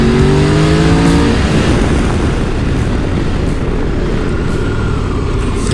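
A Triumph Tiger 1200 GT Explorer sport touring motorcycle revs loudly and accelerates, engine pitch climbing before settling into a dense, sustained roar close by.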